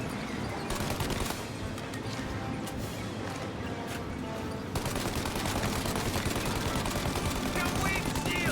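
Gunfire in the video game Mafia, dense continuous shooting with rapid overlapping reports during a car chase, a steady loud barrage with a brief drop before resuming, mixed with game noise.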